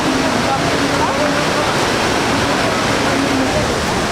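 Kempty Falls, the largest waterfall in Mussoorie, roars with a loud, steady, dense rush of falling water that fills the whole moment without a break.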